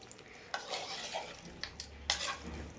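Chicken curry is stirred in a pan with a spoon, a close, continuous sizzle broken by scraping strokes and sharp metallic knocks against the pan.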